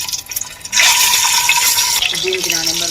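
Boiled eggs tipped into hot oil in a pan set off a sudden, loud, steady sizzle that follows a quieter moment and holds at full strength to the end, with a brief dip partway through.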